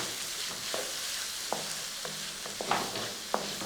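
Onions and green chillies sautéing in a pan for cauliflower curry, an even sizzle with several distinct scraping stirs of a spoon, close by and without speech.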